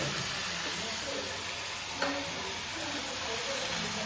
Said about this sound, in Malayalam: തേങ്ങയും ശർക്കരയും പഴവും എല്ലാം കൂടി നല്ലോണം ഒന്ന് മിക്സ് ചെയ്തിട്ടൊന്ന് നല്ലോണം ഒന്ന് വാട്ടിയെടുക്കാം